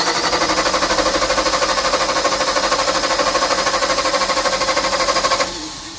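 A Kohler LP emergency generator engine cranks steadily for about five seconds in a fast, even chugging rhythm, loud and close, then cuts off abruptly into a fading hum.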